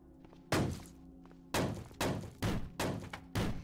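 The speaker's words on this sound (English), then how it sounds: "I'll let you guys spend a little bit of time banging down a door." Door being bashed in the Cataclysm DDA video game: five heavy thunks land at uneven intervals over a faint steady background hum, each hit sharp and loud, then quickly decaying.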